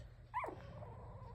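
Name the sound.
two-week-old puppies whimpering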